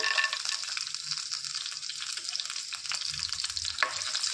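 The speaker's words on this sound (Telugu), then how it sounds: "ఒక టేబుల్ స్పూను ధనియాలు ఒక టేబుల్ స్పూను పల్లీలు వేసి వేయించుకోవాలి" Fenugreek, coriander seeds and peanuts dry roast in a pan, making a continuous bright crackling hiss with light stirring rattles close by.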